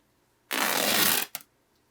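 Fabric from an old shirt is torn in one quick, close, crisp rip lasting under a second, followed by a brief snag at the end, heard alone in a quiet room.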